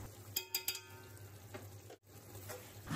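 Salt and red chili powder are stirred and roasted in a pot for a chana chicken pulao, giving a faint soft sizzle with a few quick spoon clinks against the metal near the start.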